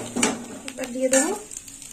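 Mourala fish coated in mustard drops into hot oil over fried tempering spices, sending up a close, brief sizzle with a few light utensil clinks and a faint tonal ring.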